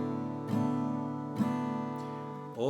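Acoustic guitar chords strummed at a relaxed home jam, a sustained ringing chord struck again about once a second with a final brush near the end, played alone without talking.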